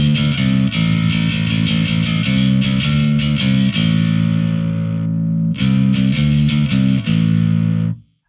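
A bass guitar played through heavy distortion shaped by a Darkglass Anagram EQ, with thick, gritty sustained notes and short rhythmic breaks, loud and close, ending abruptly.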